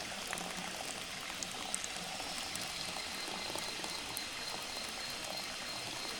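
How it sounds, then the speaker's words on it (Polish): Hot water poured straight from a bamboo tube into coffee in a jungle setting, a soft continuous trickling and bubbling splash heard close and fairly quiet, with no talking. "Lejemy wodę prosto z bambusa"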